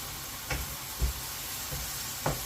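Butter stirred into a sizzling beef steak and mushroom pie filling, a steady soft fry hiss broken by a few brief scraping stirs.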